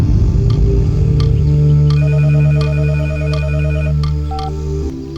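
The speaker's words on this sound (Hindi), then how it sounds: "उसी लड़की का फोन है बेटा।" Incoming phone call ringtone in a Hindi-dubbed South Indian romance film: a steady electronic melody of repeated tones plays loud and close for several seconds beneath sustained background music.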